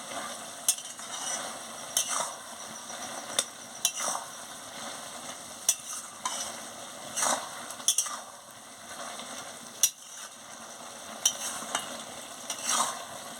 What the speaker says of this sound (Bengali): মিষ্টিটা দিয়ে দিয়েছি, নাড়িয়ে নিই।